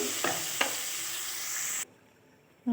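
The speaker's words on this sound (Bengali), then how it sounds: "পনিরটা খুব বেশি ভাজবো না, অল্প করে ভেজে নামিয়ে নেব" Paneer fries lightly in oil in a wok, giving a steady sizzle with a couple of sharp stirring knocks before the sizzle cuts out abruptly, followed by near silence and a final clatter.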